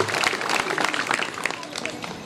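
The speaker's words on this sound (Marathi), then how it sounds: "जोरदार टाळ्यांचा कडकडाट होऊन जाऊ द्या." An audience at a lecture on Chhatrapati Shivaji Maharaj breaks into loud, fast clapping, a thick rattle of many hands close and continuous throughout.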